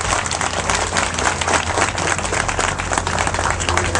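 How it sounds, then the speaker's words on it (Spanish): Steady crowd applause at a merchants' meeting in a market in Los Mina, dense continuous clapping from many people that holds at an even loud level throughout. "Un aplauso para todos los compañeros."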